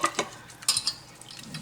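A whisk or spoon stirs flour paste into milk in a saucepan while making a white sauce for macaroni cheese, with a few short scraping clinks early on, then quieter soft stirring.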